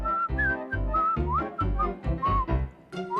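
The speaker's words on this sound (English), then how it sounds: "Must you always whistle the same tune?" Cartoon bird whistling a repetitive little tune, bright warbling notes in a steady rhythm over soft background music, with no talk.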